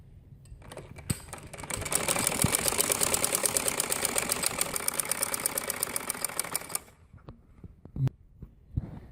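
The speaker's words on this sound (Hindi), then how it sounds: "अब मैं सीधी साइड से इसकी सिलाई लगाने लगी बिल्कुल एंड पे" Sewing machine running a continuous fast rhythmic stitch along a frock seam for about five seconds, close and clear, starting after a click and stopping into quiet handling knocks.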